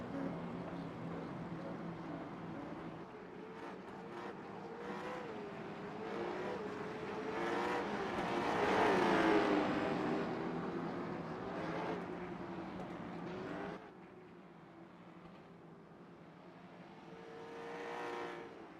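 Late model stock race cars lapping North Wilkesboro in a grassroots race, engines droning steadily and swelling as the pack sweeps past midway, then easing back before building again near the end.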